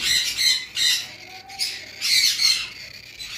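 Baby V pied lovebird, still hand-fed, gives repeated harsh squawks in bursts of roughly half a second, close and fairly loud, with short gaps between calls and no talking.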